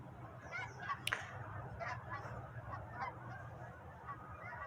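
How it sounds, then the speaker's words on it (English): A flock of snow geese honking continuously, many overlapping calls at a moderate distance over a steady outdoor background. "oh, they're snow geese."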